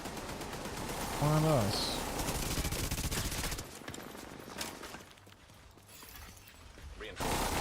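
Gunfire in a console video game against hostile troops: loud, rapid volleys of shots in the first half and again at the end, with a quieter lull between. People talk briefly over the shooting.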